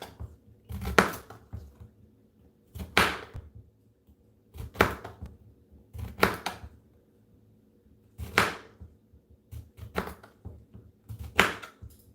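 A knife cutting zucchini squash into circular slices on a board, seven or so sharp, quick chops in loose, evenly spaced pairs and singles, close and clear against a quiet kitchen.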